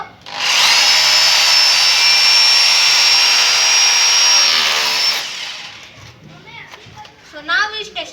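A Bosch GBH 220 hammer drill in hammer-drilling mode runs loud and steady for about four and a half seconds, then cuts off, and a person starts talking.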